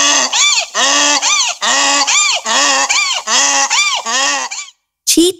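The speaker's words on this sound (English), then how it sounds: "Donkey." A donkey brays nearby, loud and close, in a run of repeated hee-haw cycles that alternate rising squeals with lower drawn tones, then a short final burst after a brief pause.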